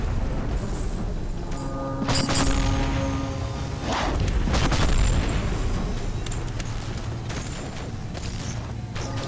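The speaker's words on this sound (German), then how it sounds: "So, wird da beschossen." Heavy bombardment in the strategy game Planet Commander: dense rolling gunfire with repeated loud booms and blasts, sustained and thick throughout.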